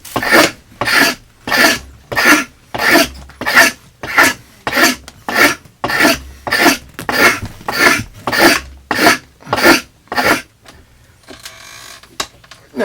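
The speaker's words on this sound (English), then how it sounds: "I'm quite comfortable using a hatchet for scraping." A hatchet blade scrapes wood from an axe handle in a steady rhythm of about fifteen rasping strokes, each loud and close, before the scraping stops.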